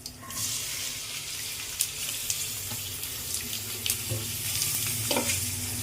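Ivy gourd frying in oil in a pan, a steady hiss and sizzle with faint clinks of utensils, no voices.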